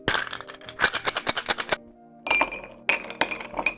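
Cocktail of tequila, orange juice, lemon juice and grenadine shaken hard with ice in a shaker: rapid, loud rattling bursts of ice against metal, a short pause, then two more rounds of vigorous shaking, close and without talk.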